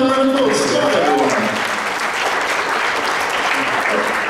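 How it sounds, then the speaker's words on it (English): A live audience claps steadily at a comedy and music show, a dense, even wash of applause that holds throughout, with faint voices mixed in near the start. "Give him another round of applause."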